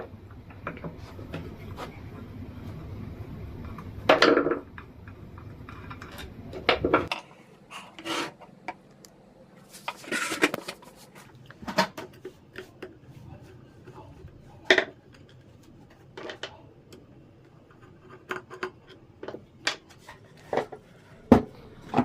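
A burnt-out ceiling fan casing being hammered open by hand, giving a series of irregular knocks and metallic clatters with scraping between them, close and fairly loud, with some low background hum early on.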